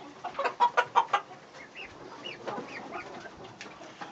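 Chickens cluck in a rapid burst of calls, followed by softer rising squawks and a rooster's voice among the flock on a farm, fairly close and moderately loud.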